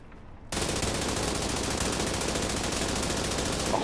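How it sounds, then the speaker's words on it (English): Light machine gun in The Division video game, firing one long sustained automatic burst that starts abruptly and stays loud and dense throughout. "that's the LMG from back there"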